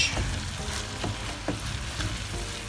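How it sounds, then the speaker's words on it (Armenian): Rice and chicken breast frying together in a pan for pilaf, a steady close sizzle with soft stirring scrapes throughout and no voices. "խառնում ենք ու շարունակում ենք տապակելը։"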